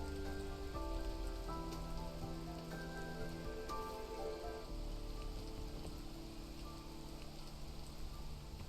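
Steady rain patters across a surface throughout, a dense, even hiss with some low tonal background running underneath and no voices.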